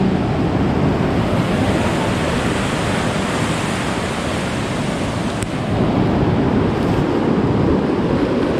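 Swollen river floodwater rushing under a rural bridge after a typhoon in Occidental Mindoro, a loud, steady broadband roar of churning water continuing throughout with no voices.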